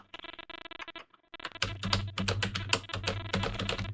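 Close, quick clatter of a computer keyboard as a title is typed, light irregular keystrokes at first, then a brief pause, then denser and louder bursts of typing.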